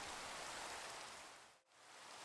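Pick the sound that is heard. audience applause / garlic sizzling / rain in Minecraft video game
rain in Minecraft video game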